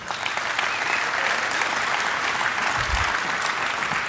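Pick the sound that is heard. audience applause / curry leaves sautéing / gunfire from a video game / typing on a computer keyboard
audience applause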